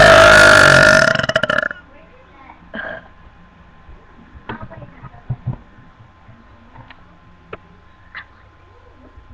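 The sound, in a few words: burp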